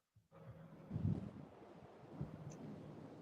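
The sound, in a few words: hurricane winds blowing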